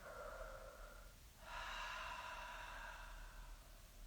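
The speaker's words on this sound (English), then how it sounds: "Nice big breath in, big breath out." Slow deep breathing during a stretching session: a soft inhale through the nose followed by a longer, louder airy exhale, close and quiet, with no talking.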